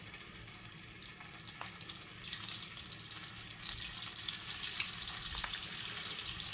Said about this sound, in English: it's just starting to sizzle